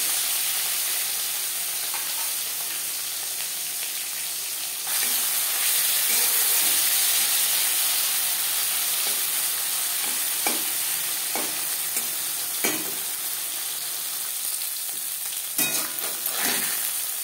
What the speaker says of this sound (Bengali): এবার দিয়ে দেবো ম্যারিনেট করে রাখা মাছ।